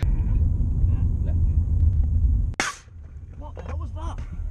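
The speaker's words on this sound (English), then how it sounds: "We got a massive explosion, and it was the Sherman tire exploding." A Sherman tank's tyre explodes in a sudden sharp bang that cuts through a loud low vehicle rumble, followed by quieter ringing and voices speaking afterward.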